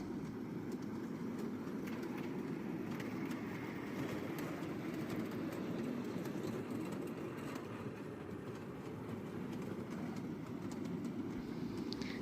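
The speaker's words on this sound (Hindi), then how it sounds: "इसके अलावा पीछे ट्रेन खड़ी हुई है, उसकी भी राइड है।" A steady low rumble with faint clatter rolls on for twelve seconds, moderately distant and continuous, from a toy train ride at an amusement park in Mayur Vihar, Delhi.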